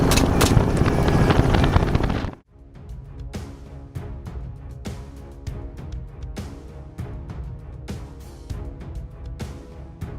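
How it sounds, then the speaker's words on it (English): A helicopter lifts off at sunrise for a wild hog hunt in Texas. A loud burst of wind buffeting comes first, then a steady rotor thump runs throughout, close and continuous. "As the sun rose, our chopper lifted off."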